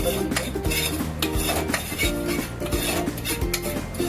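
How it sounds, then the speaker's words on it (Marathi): Poppy seeds being roasted in a pan while a metal spoon stirs them, during preparation of Diwali karanji. Close, steady scraping and clinking of spoon on pan repeats in quick strokes. "मोठी दोन चमचे कसकस घेतलेली ती टाकत आहोत आणि थोडी भाजून घेतो"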